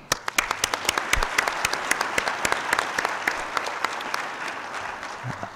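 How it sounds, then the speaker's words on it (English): An audience at a commission plenary session gives a round of applause: dense, sustained clapping from many hands that fills the room evenly for several seconds, with no speech over it. "Let's give another round of applause."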